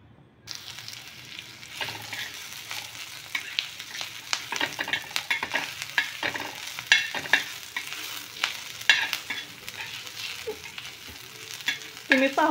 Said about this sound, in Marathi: आणखी एक 5 मिनिट आपल्याला कांदा भाजून घ्यायचा आहे।